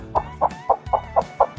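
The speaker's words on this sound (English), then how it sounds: "It's a chicken." A chicken clucking close up in a rapid, even series of about seven short clucks, loud and alone with no talk.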